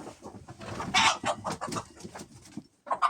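A frightened Leghorn rooster clucks and squawks loudly in a rapid, agitated series of calls while being caught for weighing, with a brief pause before a final burst.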